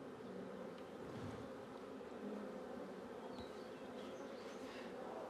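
Three honeybee swarms housed inside the Bilbila Giorgis church hum in a continuous, even buzz, with a few individual bees flying closer at moments over the soft drone.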